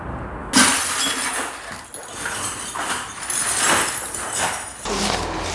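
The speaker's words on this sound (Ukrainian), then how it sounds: "в розбитій кухні мешканці прибирають скло, плитку, віконні рами" Residents sweep up broken glass, tiles and window frames in a kitchen wrecked by a Russian drone strike, with repeated close scraping, crunching and shard-clinking sounds in waves.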